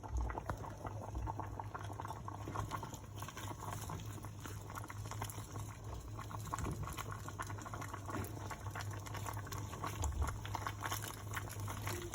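Meat and stockfish simmering in a covered pot for Nigerian okro soup, giving a steady, faint bubbling boil with soft crackles and patter that carries on evenly throughout.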